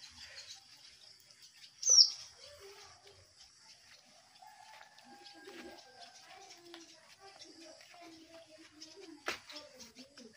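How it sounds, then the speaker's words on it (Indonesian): Faint, scattered swiftlet chirps echo in an enclosed space under a house where they nest, with a brief sharp call near the start and a low murmur of background noise. "Oh, ini banyak sekali si burung siritinya."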